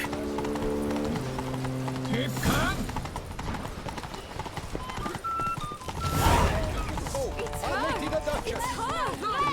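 Horse hooves clip-clop in a steady gallop in The Witcher video game, loud and continuous under game music, with a brief whinny and a voice speaking over it.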